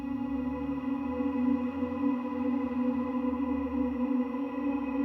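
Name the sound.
guitar pad without effects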